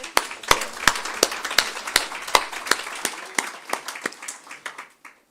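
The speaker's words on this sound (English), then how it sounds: "Can we give him a round of applause?" An audience claps for the moderator at a public lecture, with sharp, fairly sparse and close individual claps that keep an uneven rhythm, then thin out and stop.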